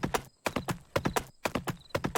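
Horse hooves in the Pumpkin Days video game clip-clop in quick, crisp groups of beats, close and clear, pausing briefly between sets, with a faint tone in the background.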